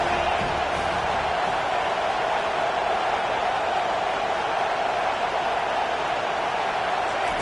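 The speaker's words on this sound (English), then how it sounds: "Listen to this crowd just shaking the girders of this place trying to help their defense" Stadium crowd roar in an NCAA football video game, a dense, steady wall of noise that holds loud and unbroken throughout with no pauses or peaks.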